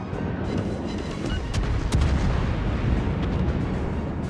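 Booming torpedo hits on a ship in a naval video game, a dense, rumbling wall of explosions with a sharp crack near the middle, continuous and loud with no voices over it.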